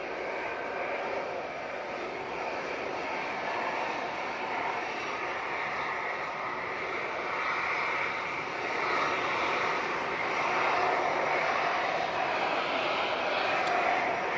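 Jet airliner engines near a runway, a steady, broad far-off roar that swells slightly toward the end, with a faint voice now and then underneath.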